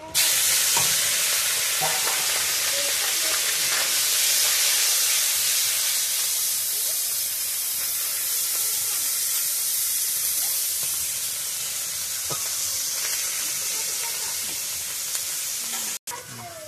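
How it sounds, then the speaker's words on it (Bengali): Small puti fish frying in hot oil, a steady loud broadband sizzle with occasional stirring scrapes running throughout, close up and without talk. "তেলটা গরম হয়ে গেছে, একটু নেড়ে নিলাম। মাছগুলো দিলাম।"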